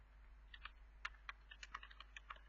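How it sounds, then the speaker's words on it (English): Someone types on a computer keyboard while coding, a quiet irregular run of crisp key clicks over faint steady background hum, no speech. "So I'm just typing"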